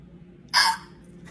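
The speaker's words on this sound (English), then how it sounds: "I think you got hiccups. We're gonna have to take care of that." A monkey hiccups once, a single sharp, close squeak-like burst standing out against a quiet background.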